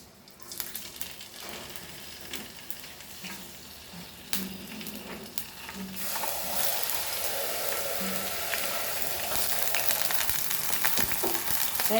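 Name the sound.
curry leaves and chilies frying in oil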